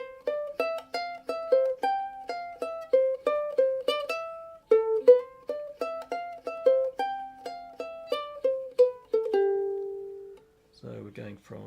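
Fingerstyle ukulele playing the riff from a song, a bouncy run of quick plucked notes in a steady rhythm that ends on a sustained note, close and alone, followed by brief speech.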